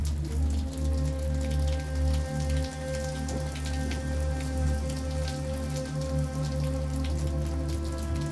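Steady rain falls and drips beneath the eaves at night, a dense, continuous patter with scattered closer drops over a low background hum.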